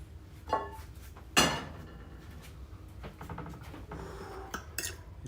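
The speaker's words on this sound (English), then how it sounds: "So down goes the pasta." Dry pasta dropped into a cooking pot, with a loud metallic clatter followed by scattered smaller knocks and clinks of cookware.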